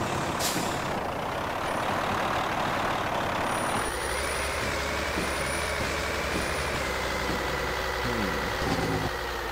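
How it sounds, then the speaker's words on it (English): A Kenworth T-660 truck in Euro Truck Simulator 2 idles with a steady, loud diesel rumble after a brief air-brake hiss, with thin high beeps sounding intermittently. "I like the original idle sound"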